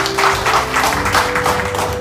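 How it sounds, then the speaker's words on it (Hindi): An audience at a corporate show claps for the MD, a close, lively burst of hand claps in a quick rhythm that holds steady for a couple of seconds. "हमारे एमडी सर के लिए जोरदार तालियां"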